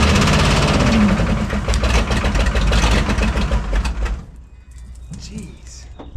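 A Chevy K30 4x4 rollback truck's diesel engine running loud and rough with a heavy low clatter, then cutting out abruptly after about four seconds, leaving quieter background sounds with some voice and cooing.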